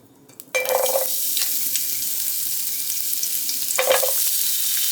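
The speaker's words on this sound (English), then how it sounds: "So we're going to start with our red onions." Red onions hit a hot pan and start sautéing, setting off a loud, steady close-up sizzle that holds throughout, with a couple of brief spoon scrapes against the pan.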